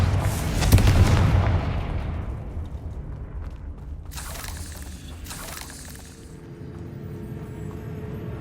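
A Confringo fire spell explodes in Hogwarts Legacy, a loud booming blast with a rumbling decay, followed by two softer bursts of crackling debris a few seconds later.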